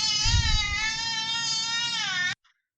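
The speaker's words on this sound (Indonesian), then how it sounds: "Masih terdengar suara tangisan bayinya?" A baby wails through a ROG Delta S gaming headset microphone in one long, sustained and close cry that stops abruptly, leaving near silence afterwards.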